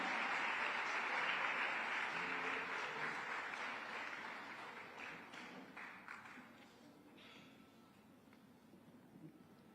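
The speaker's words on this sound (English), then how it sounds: "Let's give her a huge round of applause." Audience applause at a national seminar on women's opportunities and challenges, welcoming someone speaker; a dense, loud burst of clapping that slowly fades over about ten seconds.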